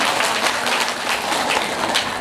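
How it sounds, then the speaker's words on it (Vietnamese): A crowd at a Buddhist memorial ceremony at a temple applauds with dense, steady clapping that fills the whole short moment without any pause. "Vỗ tay là may xong rồi hả?"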